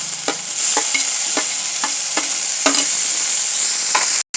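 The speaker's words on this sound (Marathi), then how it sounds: "टोमॅटो आपला छान भाजलेला आहे" Tomato and onion sizzle loudly in a pan, close and bright, with a spatula scraping and stirring in a regular rhythm of about seven strokes and no voices.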